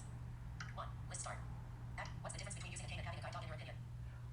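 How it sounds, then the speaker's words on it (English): An iPhone VoiceOver screen reader runs at super fast speed, a rapid, clipped synthetic voice chattering in quick bursts over a steady low hum. "you are going to hear the voiceover program on my iPhone"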